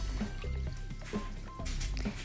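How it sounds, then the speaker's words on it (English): Seitan dough kneaded by hand in a bowl of milky starchy water, wet squelching squishes and drips repeating in an irregular rhythm, close and clear with no talking. "you're going to massage that starch out of the dough as much as possible"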